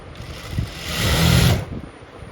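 A sewing machine stitches a hijab with a brief whirring run that rises, holds steady for a moment and then fades, heard close with a faint mechanical hum and no speech.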